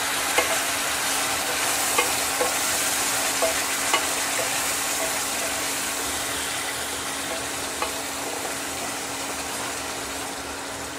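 Chicken fries with tomato puree being stirred in, a loud continuous sizzle close to the pan with light scraping of the spoon and a steady hum underneath.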